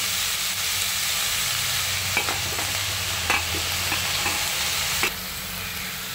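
Chopped spring onion greens cooking in a pan after fried chilli thecha, a dense steady sizzle with a few stirring scrapes, then the sound drops quieter near the end as a lid goes on, no talking.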